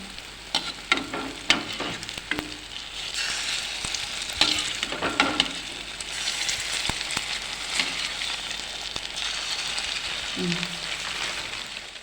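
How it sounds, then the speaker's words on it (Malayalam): Small bananas frying in hot oil in an unniyappam pan as a banana snack, a steady close sizzle throughout with occasional clinks and faint voice sounds. "ഇതുപോലെ ബാക്കിയുള്ളതും ഫ്രൈ ചെയ്തെടുക്കാം"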